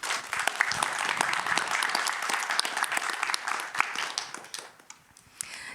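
A room of listeners at a public event on spotting online scams gives a warm round of applause, distinct hand claps crackling through a full, lively patter that tapers off and dies away near the close.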